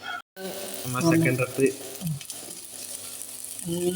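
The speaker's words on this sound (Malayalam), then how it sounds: "ഇതേപോലെ തന്നെ ഒന്ന് എണ്ണയിലൊന്ന് പൊരിച്ചെടുക്കാം" Food fries in hot oil with a crackling sizzle and stirring clatter, close up, alongside voices talking over the cooking.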